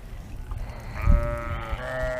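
A sheep on a farm lets out one loud, close, wavering bleat that starts about midway and trails off, with a little shuffling and background noise before it and no talking.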